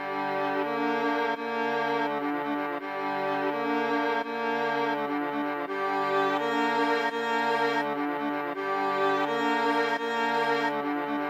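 A dark beat melody played on the FL Studio Flex plugin: a steady, dense, sustained synth line with shifting notes, looping for about eleven seconds, fairly quiet and alone.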